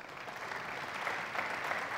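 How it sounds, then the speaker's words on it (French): An audience claps continuously in a hall after a talk, a dense, even patter of many hands heard from a slight distance, without voices over it. "on vous applaudit comme il se doit."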